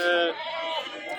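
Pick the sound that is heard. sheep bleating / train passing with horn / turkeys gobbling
sheep bleating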